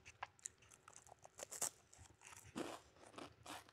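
Crunchy Shamrock otap pastry from Cebu chewed close to the mouth, with sharp irregular crunches and bites breaking in quick bursts over a few seconds, quiet and intimate.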